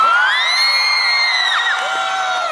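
A huge outdoor concert crowd cheers for the Chookie Dancers at an Australia Day celebration, a loud, close wash of whoops, shouts and high whistles that holds steady from start to finish.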